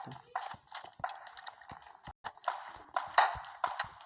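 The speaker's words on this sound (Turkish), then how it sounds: "Ben ay ayak sesleri var" A rapid run of short, sharp video game footfall taps at moderate loudness, irregular and clattering, like a character moving quickly across a hard surface.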